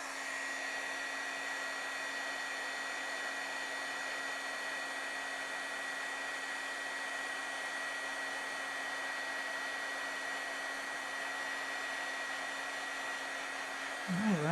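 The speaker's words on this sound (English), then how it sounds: "Now I'll get my heat tool warmed up and we will melt the powder." A heat tool blows steadily while melting embossing powder on a gift card holder tag, a constant close fan hum with a high whine that stays unchanged until a brief shift at the very end.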